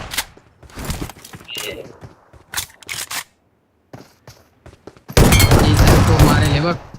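Heavy gunfire in a 1v2 video game shootout: scattered sharp shots and short bursts early on, then a dense, loud, sustained volley of rapid fire near the end.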